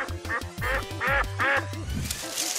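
Duck quacks come in a rhythmic series of four loud, close calls over a low, thumping backing track, with a scene involving a rubber ring and a toy duck.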